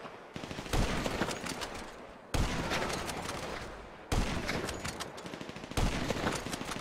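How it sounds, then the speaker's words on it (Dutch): Sniper fire in the video game Grand Theft Auto 5, heard as four heavy, evenly spaced booming shots, each followed by a long rumbling tail. They are loud and close, with no talk over them. "Sniper fire."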